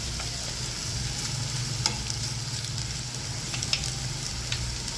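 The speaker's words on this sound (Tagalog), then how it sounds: "halo-halo hanggang sa mag-coated din ang ibang mga ampalaya ng ating itlog dyan" Bitter gourd and egg are stirred in a pan with a soft, steady frying sizzle and a few light scrapes of the spatula, fairly quiet and with no voices.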